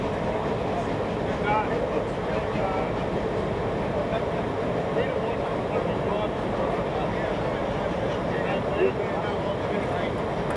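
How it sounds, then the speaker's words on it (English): Steam locomotive 3526 pulls away from Maitland station hauling a passenger train toward Port Waratah during the Hunter Valley Steamfest, a steady rumble of rolling wagons with faint clatter that runs continuously and moderately loud throughout. "With passengers on board, 3526 now leaves Maitland for Port Waratah."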